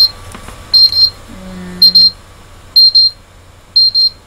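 Electronic timer alarm beeping in four evenly spaced bursts, each a quick double beep, loud and close, with a brief low hum between the second and third bursts.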